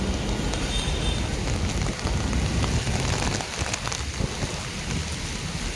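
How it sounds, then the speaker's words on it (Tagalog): Heavy afternoon rain pours steadily onto surfaces, a dense continuous hiss and patter, loud and close, with no voices. "Grabing ulan."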